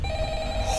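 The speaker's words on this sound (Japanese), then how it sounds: "もう電話うるさい" Electronic telephone ring from the Five Nights at Freddy's horror game, a steady tonal ringing that runs continuously through the short moment, loud and close.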